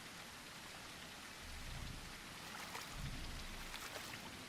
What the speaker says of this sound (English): the rain's making like weird, almost footstep noises